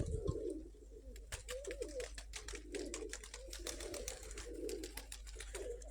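Domestic pigeons, including red Crimean birds, cooing in a loft in soft repeated low calls, with a rapid clicking patter layered over them and a steady low hum underneath.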